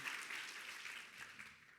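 Audience applause at a luncheon, a steady wash of clapping from many hands filling the room for about two seconds, fairly distant and even, with no talking over it.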